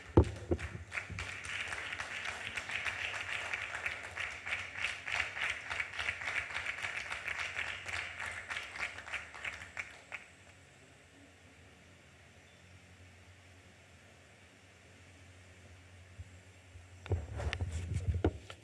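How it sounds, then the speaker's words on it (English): Audience applause in a hall after a speech on electing Nigeria's first female governors, a dense steady clatter of clapping for about ten seconds, then a quiet lull before a second burst of clapping starts near the end. "I think she deserves another round of applause"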